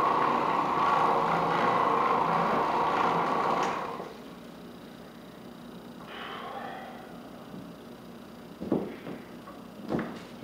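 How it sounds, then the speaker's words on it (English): A Rug Doctor carpet cleaning machine runs over a worn, matted carpet with a loud, steady whirring drone for about four seconds, then cuts off, leaving quiet room tone and a few faint knocks. "On this carpet, we're gonna run the rug doctor over it."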